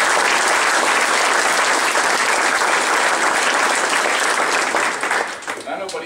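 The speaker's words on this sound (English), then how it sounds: "That, I think, we deserve a round of applause." An audience claps loudly and steadily at a memorial run check presentation, a dense sustained round of applause that tapers off near the end.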